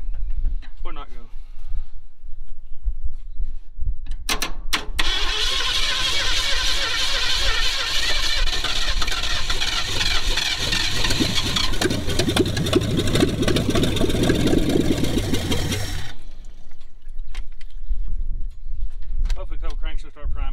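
An abandoned Ford Mustang that has sat for over twenty years cranks loudly for about eleven seconds without catching. Someone talks before and after, and birds sound faintly outdoors.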